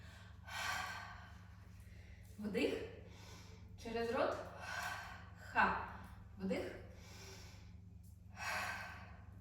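Yoga pranayama breathing practice with deliberate inhales and full exhales followed by breath holds, heard as soft, close breaths in a quiet room with a low steady hum beneath.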